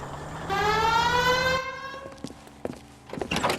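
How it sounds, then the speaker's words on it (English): Police car siren in the video game L.A. Noire, set in 1940s Los Angeles, wails up loud and rising for about a second and a half, then cuts off into scattered game noises and rumble. "Hit the siren."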